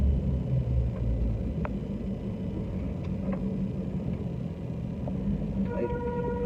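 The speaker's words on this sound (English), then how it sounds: "I gotta let this car run a while" A Dodge Charger Hellcat idles, with a steady deep engine rumble holding throughout at close range and a few faint higher tones near the end.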